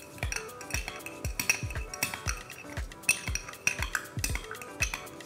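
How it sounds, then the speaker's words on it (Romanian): A utensil stirs vegetables with olive oil, salt and herbes de Provence in a metal pan, giving repeated soft scrapes and light clinks in an uneven rhythm, close and fairly quiet. "Ulei de măsline, sare, ierburi de Provence, amestecăm bine."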